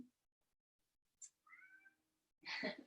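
A cat gives a short, clear meow and then a louder, longer meow in a very quiet room, with no talking.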